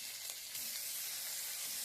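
Onions frying in hot oil with a spice mix added, a steady loud close sizzle with light stirring, no talking.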